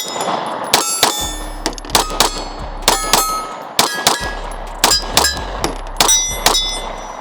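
Pistol shots from a Sig P365 ring out against steel targets in quick pairs and singles, each loud crack followed by a bright metallic clang, repeated about a dozen times.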